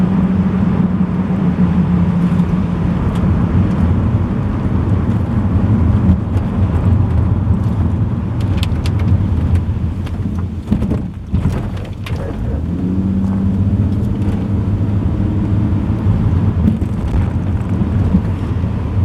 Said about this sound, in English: despite the awful racket from the roof rack